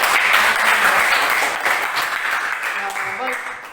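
A classroom of students breaks into applause at the end of a geometric-sequence lesson. The dense clapping is loud at first, then thins and fades slightly, with a voice speaking over it.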